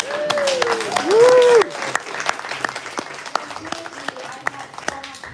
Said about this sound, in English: a round of applause for Bibi for working.